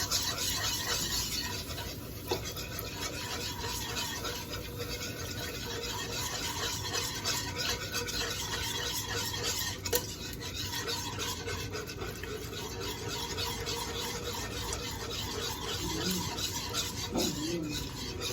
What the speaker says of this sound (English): Okay, so just keep whisking.